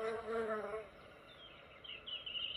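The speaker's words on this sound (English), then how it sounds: "busy bees spreading pollen from flower to flower" Bees buzz among flowers, a close humming drone that swells and fades as insects move about, with a thinner higher whine near the end.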